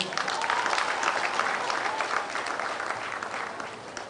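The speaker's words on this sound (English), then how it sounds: "another round of applause" A large audience at a national campaign event against child marriage and teenage pregnancy gives a warm round of applause, dense, continuous clapping that holds steady and tapers slightly toward the end.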